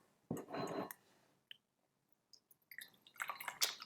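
Gyokuro Sasa Hime green tea poured from a small pot into a cup, a brief close trickle followed by a quiet gap, then scattered light drips and clinks.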